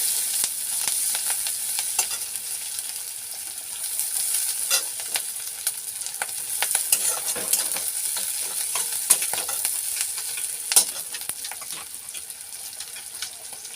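Sliced onions and split chillies fry in oil left over from frying fish, making a continuous close sizzle with scattered sharp crackles and pops and no talking.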